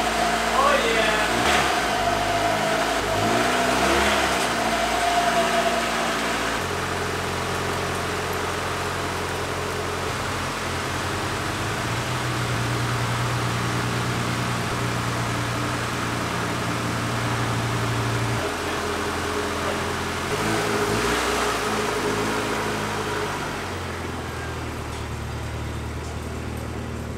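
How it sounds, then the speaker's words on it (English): An Acura Integra heard from inside the cabin pulls away and accelerates. The engine drone climbs and steps through several gear changes, steady and fairly loud throughout. "All right, first drive in the Integra, here we go."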